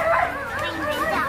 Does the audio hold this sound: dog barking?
yes